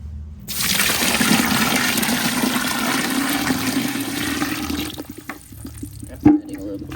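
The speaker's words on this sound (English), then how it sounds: "Now we're gonna add some water to it." Water poured into a new aquarium over fresh black sand, a steady loud rushing pour for several seconds that eases off into a thin trickle, with a brief clunk near the end.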